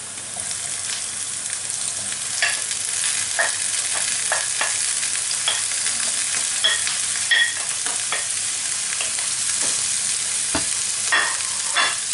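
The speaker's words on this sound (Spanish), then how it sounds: "Las voy a saltear un poco." Green beans and onion sauté in a pan, a steady crackling sizzle broken by repeated sharp clicks and scrapes of stirring, close and fairly loud with no voices.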